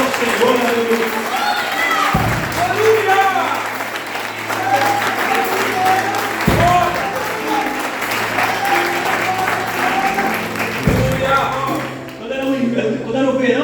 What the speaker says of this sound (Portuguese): Dá uma salva de palmas aí, sabe?